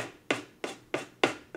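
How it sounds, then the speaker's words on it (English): Close, steady rasping strokes of a sanding block or nail file on the edges of a chest of drawers being distressed: four to five even scrapes at a regular rhythm, with no talking. "sand the edges down"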